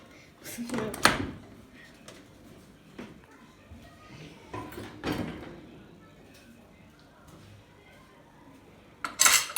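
Ceramic plates being set into a home dishwasher, with a few sharp clinks and clatters of dishes and cutlery spaced through the stretch and a louder burst at the end, amid light household noise and occasional talk.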